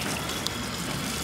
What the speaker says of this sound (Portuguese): Tem várias águas dessas espalhadas na cidade aqui, ó. Pra galera encher de garrafa.